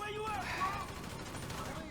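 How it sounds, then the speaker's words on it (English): Rapid gunfire rattles through a GTA 5 shootout, bursts of shots crackling at moderate level beneath someone talking over the action. "This is already kind of a hard shootout because these guys don't like dying"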